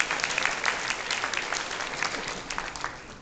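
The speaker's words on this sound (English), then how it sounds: "applause, please." Audience at the Miss Asia Sacramento pageant applauds in a steady, moderately distant wash of clapping that tapers slightly at the end.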